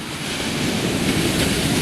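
Rough Pacific Ocean surf at Brookings, Oregon, a loud, steady roar of crashing waves mixed with wind buffeting the microphone, with no break in the noise.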